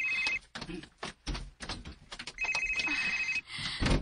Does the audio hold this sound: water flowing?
no